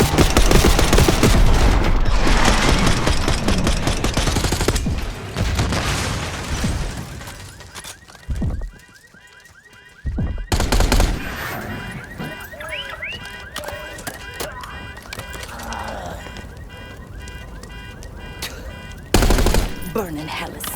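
Sustained gunfire in the video game Call of Duty Black Ops 6, loud rapid automatic bursts with a brief lull near the middle, mixed with game sound and voices.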